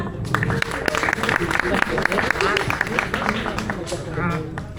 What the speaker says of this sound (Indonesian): Tepuk tangan untuk para wanita